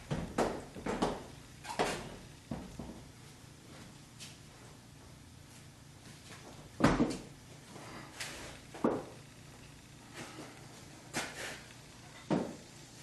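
A Jeep Wrangler door on new hinges swings open and shut with a series of soft knocks and thuds at irregular intervals. The sounds are fairly close and quiet over a faint background hiss.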